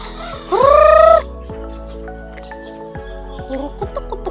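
On a farm early in the morning, a rooster crows once, loud and close, followed by scattered chicken clucks and farmyard noises at lower level.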